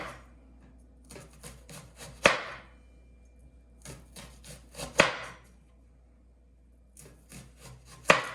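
A knife slices a whole onion into thick rounds on a cutting board: clusters of crisp, close chopping strokes in bursts, with quiet pauses between them.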